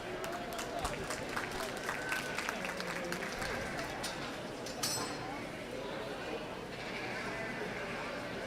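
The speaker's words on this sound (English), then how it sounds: "Let's give him a round of applause." Audience clapping at a youth livestock show lamb class in the county show ring, steady applause mixed with sheep bleating and general arena chatter, moderately distant.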